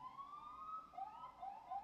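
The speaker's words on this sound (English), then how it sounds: "What is with the sirens now?" Police sirens wail outside, faint and distant, the rising-and-falling tone sweeping through a short stretch with no other sound over it.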